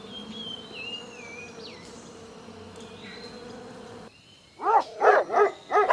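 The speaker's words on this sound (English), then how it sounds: "bee" A bee buzzes in a steady, wavering drone for about four seconds before cutting off, followed by a dog's short barks.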